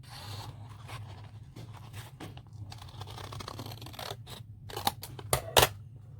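Paper being trimmed with scissors for a 3D craft food truck, with quiet snipping and rustling that builds into a few sharper, louder cuts near the end, no talking.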